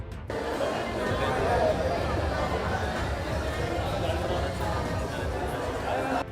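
A crowd of women queues for registration for the Ladki Bahin welfare scheme at a tehsil office. The chatter is a dense, steady babble of overlapping voices with no pauses, and indistinct talk runs all through it.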